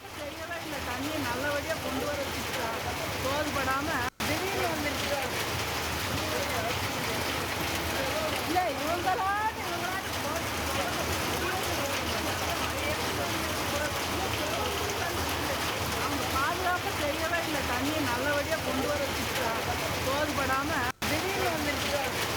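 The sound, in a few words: heavy rain on flooded roads in Pollachi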